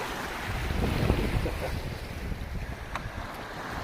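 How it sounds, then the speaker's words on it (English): Sea waves washing against a crumbling harbour wall, heard as a steady broadband wash with wind buffeting the microphone, moderately near and continuous with no talk. "And nice to hear the sea again, isn't it?"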